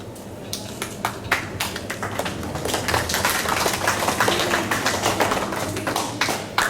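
An audience at a school declamation competition claps after a student's speech, many distinct hand claps forming a steady, moderately loud applause across the whole clip.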